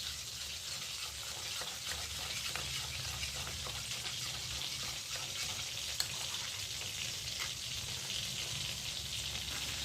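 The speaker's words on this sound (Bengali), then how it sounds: "এবার কড়াইতে ফোড়ন দিয়ে দিচ্ছি" Whole garam masala, bay leaves and cumin seeds sizzle in hot oil in a wok with a steady, moderately quiet hiss and light crackle that continues evenly throughout, with no speech.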